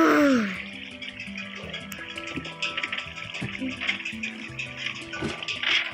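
Flowing water in Minecraft, a rushing, splashing stream that runs throughout at moderate loudness, with a voice briefly audible near the start.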